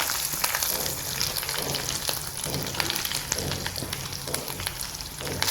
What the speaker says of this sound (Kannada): ಫ್ರೈ ಮಾಡ್ಕೊಳ್ಳಿ ಎಣ್ಣೆನಲ್ಲಿ ಚೆನ್ನಾಗಿ